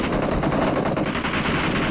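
Sustained automatic gunfire in the mobile battle royale game PUBG Mobile, a dense, loud, continuous burst of rapid shots filling the whole stretch with no voices over it.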